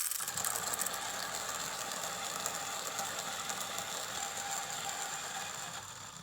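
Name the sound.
hand coffee grinder grinding dense coffee beans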